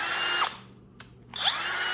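A Harbor Freight Hercules 20 volt cordless drill driver whirs up to speed, winds down to near silence, then spins up again, with a close, high-pitched motor whine in two short bursts.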